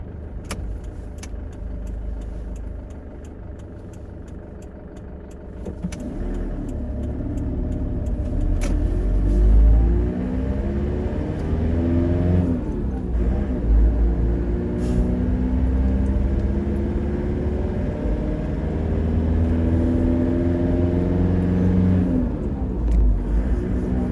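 A car drives along a road on the way to an office, its engine hum and tyre rumble steady and close, with shifting engine tones as it accelerates, continuous for the whole stretch without talk.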